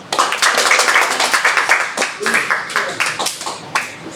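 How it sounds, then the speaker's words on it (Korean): A church congregation at a Sunday morning service claps in welcome, a dense, steady patter of many hands lasting several seconds, with voices murmuring underneath. "자, 우리 박수로 환영합시다."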